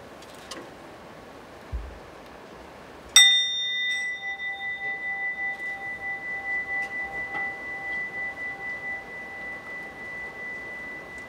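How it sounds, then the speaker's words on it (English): Mindfulness bell struck once at the end of a meditation practice in a quiet room: a clear metallic strike followed by a long, pure ringing tone that pulses gently and slowly fades over several seconds, preceded by faint small knocks. "hear the sound of the bell, and that's going to mark the end of this formal practice of mindfulness"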